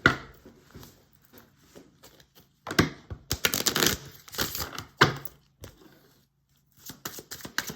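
Tarot cards handled and shuffled up close, a run of crisp papery flicks and riffles with soft taps and slides between bursts, no talking.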